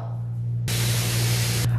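A makeup remover spray bottle gives one loud, close hiss lasting about a second, rising sharply over a low electrical hum and then cutting off.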